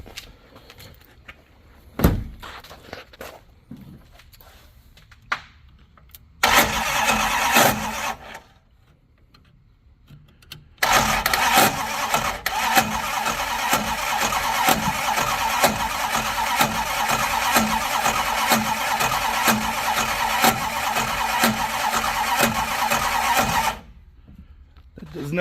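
A 1972 Plymouth Fury I engine cranks and briefly catches, then starts and runs loud and rough for about thirteen seconds before cutting out, with someone talking beforehand.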